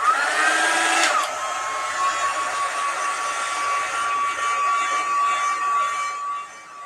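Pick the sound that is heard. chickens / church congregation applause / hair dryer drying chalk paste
hair dryer drying chalk paste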